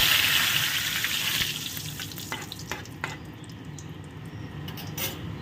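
Panch phoron, a dry red chilli and bay leaves frying in hot oil, a loud bright crackling sizzle at first that settles into steadier frying with a few light clicks.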